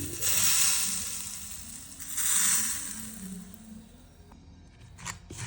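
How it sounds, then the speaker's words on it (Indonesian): Hot oil poured onto garlic chili sambal bawang gives two loud, close sizzling bursts that hiss and fade, followed by quieter crackling, with no talking. "Disiram minyak panas."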